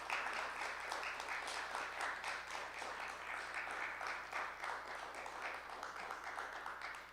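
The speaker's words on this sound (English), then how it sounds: "So maybe one more round of applause for now in a moment." An audience at a digital media arts symposium applauds its performers, a steady, dense round of clapping that holds for several seconds at moderate, slightly distant volume with no talk over it.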